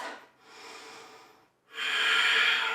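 Slow breathing during a yoga pose: two long, close airy breaths, a softer breath followed after a brief pause by a louder, stronger one.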